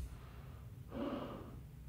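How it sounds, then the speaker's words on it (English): A person breathes loudly close to the microphone, a single heavy gasp-like inhale that swells briefly in the middle and fades out. "can you stop breathing? I'm trying to watch."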